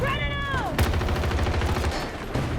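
Rapid gunfire from an M16A3 rifle in the shooter game Battlefield 2042 crackles in quick repeated bursts, loud and close, mixed with game effects and a player's voice talking.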